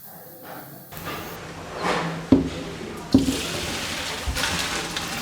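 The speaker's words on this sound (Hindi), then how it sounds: "इसके ऊपर पानी आप लाजमी डालिएगा, इससे स्पैगेटी का जितना भी स्टार्च होगा ना, जिसकी वजह से ये आपस में चिपक जाती है, वो सारा स्टार्च निकल जाएगा" Tap water gushes and splashes over freshly boiled, strained spaghetti in a sink to wash off the starch, a close running pour with a couple of sharp clunks of a pot or strainer.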